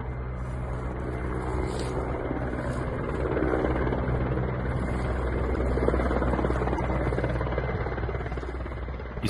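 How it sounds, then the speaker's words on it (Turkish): A firefighting helicopter working a lightning-caused wildfire over rough terrain drones steadily with a throbbing rotor and engine hum, loud and continuous throughout with no voices. "İstanbul ve Bursa'dan gelen yangın söndürme helikopterlerinin alevlere müdahalesi sürerken tekrardan destek istendi."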